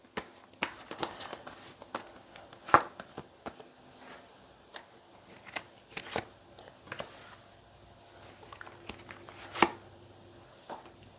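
Tarot cards being shuffled and drawn during a Korean love-fortune reading, with soft papery riffles, taps and slides arriving in irregular bursts, close and fairly quiet, with no talking over them.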